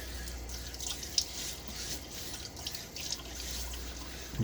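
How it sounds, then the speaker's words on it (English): Water splashes and drips at a bathroom sink as a face is wetted before shaving, with soft irregular dribbles and a couple of sharper splashes over a low steady hum. "I'm going to throw some water on my face as kind of a softener of the hair."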